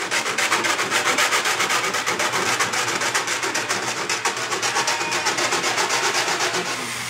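Steady rhythmic rubbing on a Corsair 200R midtower case window panel, a dense, continuous scraping abrasion with fast repeated strokes, loud and close with no voices.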